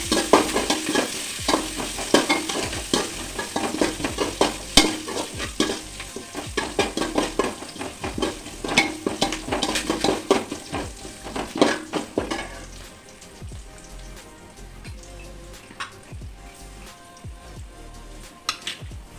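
Spices such as cardamom and cloves with curry leaves sizzle and are stirred in a pan for a chicken curry, with steady scraping and frying crackle that runs loud at first and then settles quieter.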